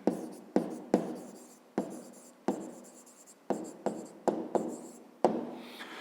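A math answer being handwritten with a pen on paper, close, rhythmic scratchy strokes in short repeated bursts separated by brief pauses.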